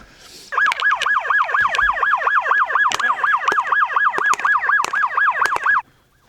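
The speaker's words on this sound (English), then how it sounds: "It's a bit hard to hear exactly what's going on just with the sirens going" A rapid yelping police siren wails in fast, regular up-and-down cycles, loud and close, during an armed standoff at a gas station, with sharp gunshot-like clacks cutting through it before it stops abruptly.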